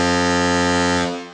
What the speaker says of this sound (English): it's an authentic battleship horn